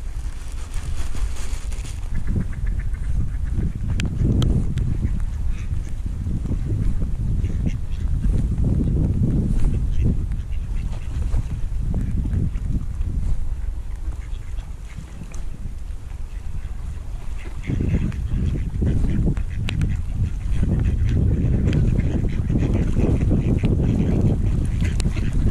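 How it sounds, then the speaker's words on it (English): Ducks being fed on water quack among wind rumble and steady outdoor noise, their calls scattered and moderately near through the blustery background. "These ducks and things will get fed all through the day."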